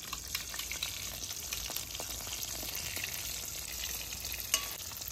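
Continuous hiss and sizzle of battered tuna fish pakoras frying in oil, fairly steady, with light bubbling crackle and one brief clink near the end.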